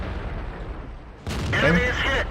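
A tank cannon firing in the video game World of Tanks, a sudden loud blast partway through that rings out with a heavy rumbling decay, preceded by a low engine-like hum.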